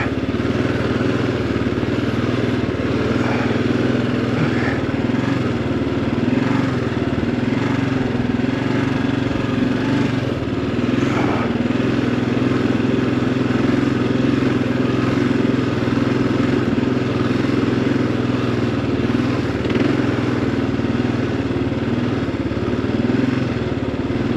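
Kawasaki KLR dual-sport motorcycle ridden over sand and rocks on an adventure trail near McKenzie and Santiam Pass, engine droning steadily and loudly throughout with faint clatter and no pauses.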